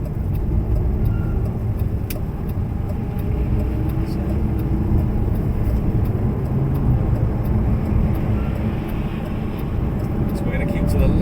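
A Lamborghini engine roars loudly and continuously from inside the cabin as it gains speed on a cone-marked course, a dense low rumble throughout. A voice speaks over the engine noise.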